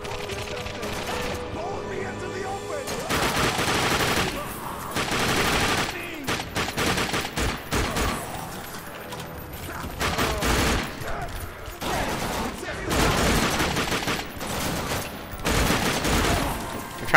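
Rapid bursts of shotgun fire from the first-person shooter game The Darkness II, loud, close and repeated in quick clusters, with faint in-game sound between volleys.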